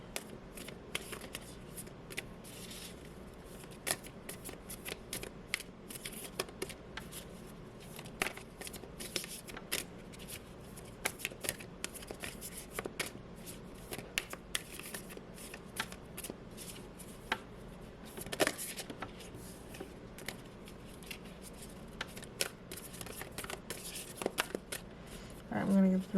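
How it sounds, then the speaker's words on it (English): Tarot cards are shuffled again and again in soft, quick riffling bursts and slaps, close and quiet, with a person speaking now and then between shuffles. "I'm going to give 3 more shuffles."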